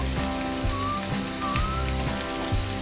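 Sliced bitter gourd (karala) fries in a pan with a steady, dense sizzle and crackle like rain on a surface, close and continuous, with faint clinks of a utensil.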